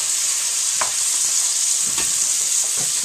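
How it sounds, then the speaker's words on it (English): Onions fry and brown in a pan with a loud, continuous hiss, while a spoon scrapes through them a few times and each stir stands out briefly above the sizzle. "you want to make sure you give them a good stir so that all different onions can get brown"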